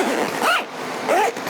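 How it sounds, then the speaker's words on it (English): A zipper on a Bush Company 270 XT rooftop tent bag being drawn closed during fitting to an ARB base rack: two separate rasping pulls, close and clear, with a short pause between them and no speech. "So I'm going to zip it up,"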